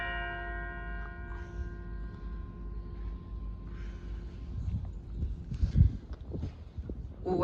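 Church bells ring at noon in Dobbs Ferry, with long steady tones fading under the rumble of outdoor ambience, traffic and scattered footsteps nearby.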